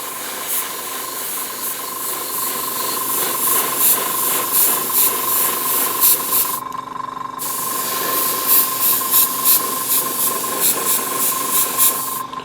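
Aerosol spray can laying a light coat of black paint over yellow on a miniature landing pad, a steady close hiss in short pulsing bursts with a brief pause midway.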